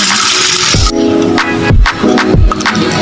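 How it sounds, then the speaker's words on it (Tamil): Water swishes and splashes in a bowl as 250 grams of red rice is washed by hand, a steady close wet churning with a few sharper sloshes. "தண்ணி சேர்த்து கழுவி எடுத்துக்கலாம்."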